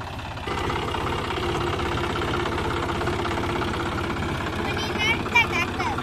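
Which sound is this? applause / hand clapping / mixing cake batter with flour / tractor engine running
tractor engine running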